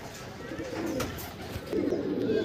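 Pigeons kept in a loft give soft, low cooing murmurs, faint and steady, with a voice speaking faintly in the background.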